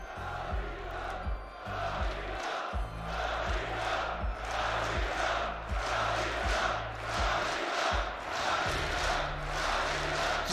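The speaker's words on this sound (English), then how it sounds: "I think the crowd I think they like Karrigan, if I had to guess" Arena crowd at the IEM Katowice 2022 Counter-Strike grand final between G2 Esports and FaZe Clan, a steady loud roar of cheering and chanting that swells and surges throughout, with no talk over it.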